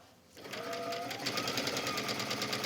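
A sewing machine stitches a rolled hem on a wrap dress, starting after a brief quiet moment and then running as a fast, steady mechanical whir with a rapid rhythmic needle clatter, close and continuous.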